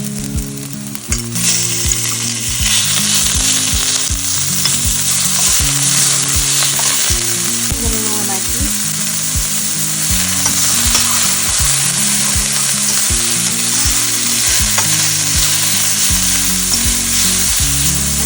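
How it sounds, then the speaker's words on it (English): Ground beef sizzles steadily in a hot pan as a ramen topping, with a dense, continuous frying hiss and occasional stirring scrapes, loud and close with no talking. "You don't have to fully saute this. You can just add a ground beef."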